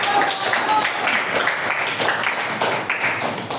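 A classroom audience applauds after a group presentation, dense and steady clapping throughout at close range.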